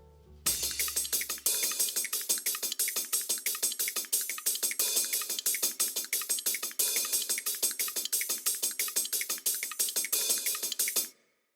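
Dense electronic percussion layers play together in a busy, continuous rhythmic pattern of crisp hits and shakers, loud and steady for about ten seconds before stopping abruptly.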